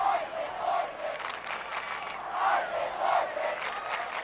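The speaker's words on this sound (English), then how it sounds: "And the crowd chants his name, Isaac Larson." Football game crowd at a Woods Cross vs Logan high school match chanting a player's name, a massed rhythmic roar of voices swelling in repeated waves.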